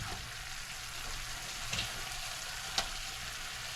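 Garlic sizzles and fries in a pan for honey garlic wings, a steady close crackle with a couple of faint clicks.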